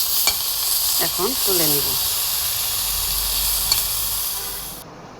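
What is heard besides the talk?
bottle gourd leaves frying in a pan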